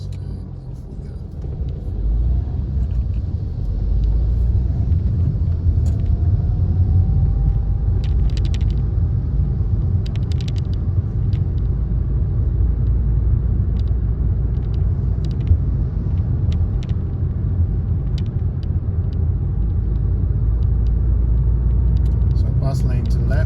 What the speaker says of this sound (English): Gas on, clutch up, check mirrors, and off we go.